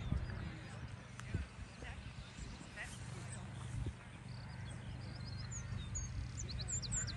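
Hooves of young four- and five-year-old horses at a Kildare hunter performance show, a soft, steady clip-clop running throughout beneath constant crowd murmur and an announcer's voice.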